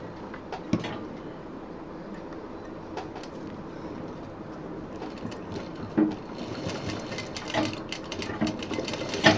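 A sewing machine stitches a zip into a homemade college bag, its fast mechanical whirr running continuously and close with a few sharper clicks and knocks, no talk heard.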